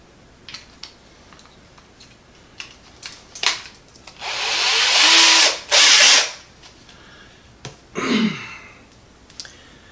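A power drill with a small bit whirs in two loud sustained bursts, then spins up briefly again, with scattered clicks and taps before and between.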